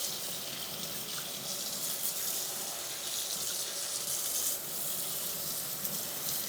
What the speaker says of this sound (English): here I am rinsing the citral and you can see all this milky stuff coming off of it like that